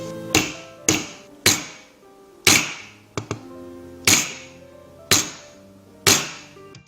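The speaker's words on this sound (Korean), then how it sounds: "큰 망치로 충격을 줘볼게요." A large hammer strikes a steel plate in a series of sharp, ringing blows, about eight hits spaced roughly a second apart, each loud and close with a short metallic decay and no talking.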